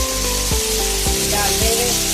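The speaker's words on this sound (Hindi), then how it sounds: "हम इसमें उबले हुए मटर डाल देंगे।" Boiled peas tip into a hot pan of pasta, raising a loud, steady sizzle of frying with a few soft stirring knocks.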